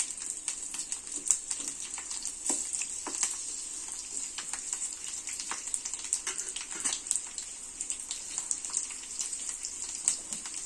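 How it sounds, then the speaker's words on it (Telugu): Steady sizzling of torn green chillies frying in oil in a pan, a continuous bright crackle with scattered pops throughout, close and moderately quiet. "పచ్చిమిర్చి ఇలా కడిగేసేసి శుభ్రంగా వీటిని తుంపుకొని వేస్తున్నాను. ఇవి కొంచెం వేగాక"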